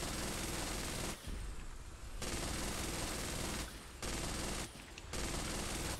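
Sustained video game gunfire from a multiplayer shooter, dense and continuous bursts of automatic fire with two brief lulls, loud and close throughout with no talking.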